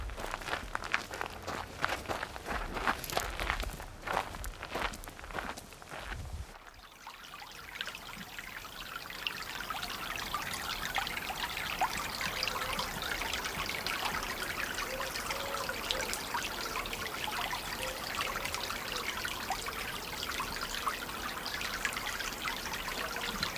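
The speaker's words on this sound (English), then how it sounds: "We're about to walk down a bit of the River Itchen Way." Footsteps crunch along a path beside the River Itchen in the South Downs, then give way to a steady, soft trickle of flowing water that continues gently for most of the time, with no talking.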